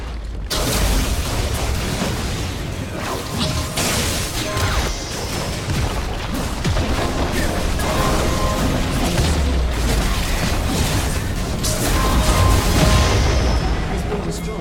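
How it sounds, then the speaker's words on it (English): Turret destruction in League of Legends, with dense booming crashes and mechanical impacts that stay loud and continuous throughout, under game effects and a faint announcer-like voice. "Your team has destroyed a turret."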